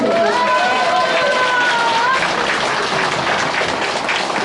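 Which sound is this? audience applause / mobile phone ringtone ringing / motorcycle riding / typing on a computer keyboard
audience applause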